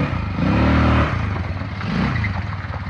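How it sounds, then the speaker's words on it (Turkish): An ATV engine revs hard on a first ride in a village, rising into a loud, rough drone, easing off, then climbing again, with rattling and scraping from the vehicle throughout. "Arkadaşlar ilk defa ATV'ye biniyor."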